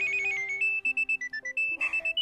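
A telephone rings with a bright electronic ringtone melody of repeated pulsing tones, close and clear with no voices over it, in a Marathi household drama scene.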